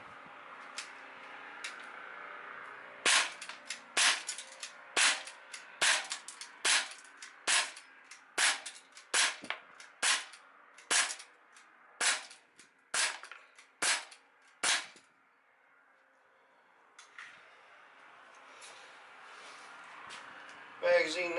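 Daisy Powerline 5501 air pistol fired outdoors in a steady string of about fifteen sharp, loud cracks spaced roughly a second apart, with faint background noise before and after.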